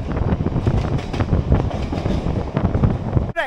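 A passenger train runs along a rural line toward Mousuni Island, a loud rumbling clatter of wheels with wind buffeting the microphone, continuous for a few seconds.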